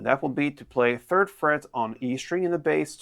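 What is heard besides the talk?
No everyday noises stand out.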